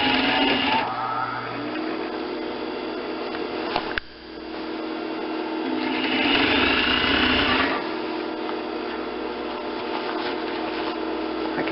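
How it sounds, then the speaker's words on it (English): A sewing machine stitches about an inch from the fabric edge along the front of a garment, a steady mechanical whir that runs nearly continuously, with one brief pause partway through. "sewing about 1 inch from the edge all the way around the front"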